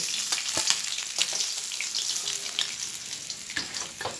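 A fish head fries in oil with a continuous close crackling sizzle, dotted with sharp spatters and occasional utensil clicks, at a soft, even level and with no talking.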